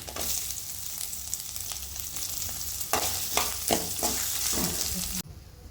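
Black pepper and coconut roast in a pan with a steady dry sizzle, punctuated by several scraping stir strokes in the second half before the sound cuts off abruptly near the end.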